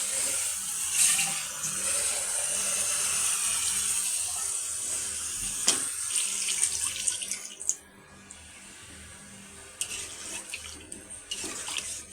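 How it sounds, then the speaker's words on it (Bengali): Water poured into a pan of boal fish curry, a steady rushing splash for about seven seconds, then a quieter simmering hiss with a few brief clinks near the end. "এখন আমি এখানে পানি অ্যাড করবো"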